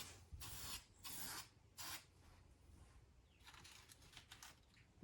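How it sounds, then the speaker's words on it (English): A spray paint can nozzle on a farm truck project fires three short, loud hissing bursts close by, followed by a longer stretch of quieter, broken spraying. "You gotta be like He-Man to push this nozzle"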